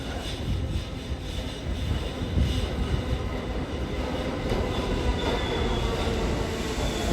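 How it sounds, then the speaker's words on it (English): A New York City subway train rumbles up through street grates in Harlem, producing a loud, continuous roar with faint squealing wheels while someone walks over the grates. "that's a train that you hear that funny sound walking over train grates."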